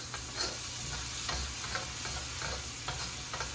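Pork frying in a little oil at the side of a pan on turned-down heat, giving a steady close crackling sizzle with scattered pops and scraping stir sounds throughout, no voices.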